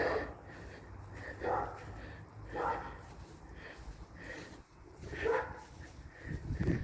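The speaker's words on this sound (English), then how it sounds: "My neighbor's dog barking." A neighbor's dog barks several times at a distance, irregular and fairly faint, over outdoor backyard background noise.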